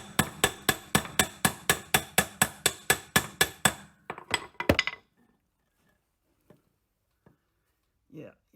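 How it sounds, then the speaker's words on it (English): A Jeep Cherokee axle part is driven in with rapid metallic hammer blows, about sixteen regular close strikes, then a few irregular hits and scattered faint clinks. "if I can just hammer it a little more."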